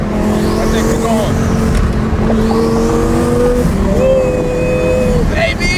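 A 1000 hp twin-turbo Lamborghini accelerates hard, its engine roaring loud and close with rising pitch sweeps through the gears, while people talk and cheer over it.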